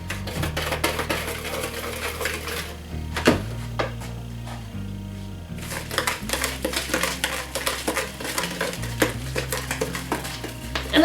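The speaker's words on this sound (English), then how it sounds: "We're supposed to whisk it all together." Flour, baking powder and salt whisked together in a bowl for homemade Danish pastry: rapid, busy metallic clicking and tapping against the bowl, continuous and close, with a steady low hum underneath.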